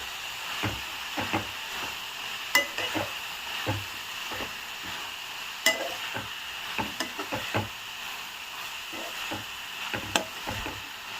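Fenugreek leaves are stirred into a tomato curry in a pan, with irregular soft knocks and scrapes of a spoon against the pan over a faint sizzle, close and fairly quiet.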